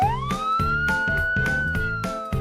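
A toy police car's electronic siren wails steadily in a repeating pulsing pattern, loud and close, with nothing else heard.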